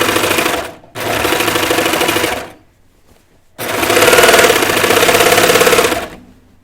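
A sewing machine stitches a side seam on a knit T-shirt in two loud, steady bursts of rapid mechanical chatter, with a short pause between them where the machine stops.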